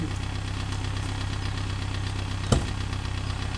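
A Mini R50 engine idles with a steady low drone and a faint, slightly irregular knocking, close and alone, with one brief sharp clunk near the end.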